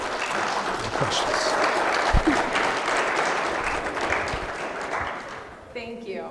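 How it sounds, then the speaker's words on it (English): An audience at a live finance talk event claps in a sustained, fairly loud round of applause that fades near the end as a voice speaks briefly. "give them a round of applause."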